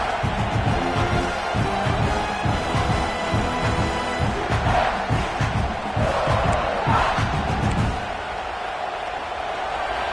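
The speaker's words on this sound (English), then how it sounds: "Listen to the crowd energy here in the early going." A large stadium crowd at a USC versus Cal football game roars and cheers continuously, a dense wall of voices that eases off slightly near the end.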